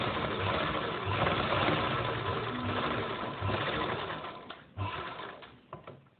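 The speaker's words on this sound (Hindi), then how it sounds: "ये मैंने यहाँ पे सिलाई लगा ली है।" A sewing machine runs steadily, stitching the sleeve of a blouse for a floral sleeve design, with a continuous fast buzzing that pauses briefly near the end before a few short bursts.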